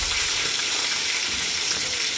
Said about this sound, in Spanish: Le doy su bañito de aceite caliente.